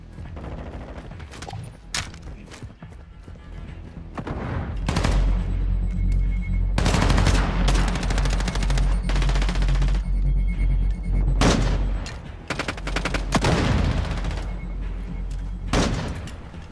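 Video game gunfire in Modern Warfare 2: scattered single shots at first, then long loud stretches of rapid automatic fire and explosions mixed together, up close and sustained, with no talking.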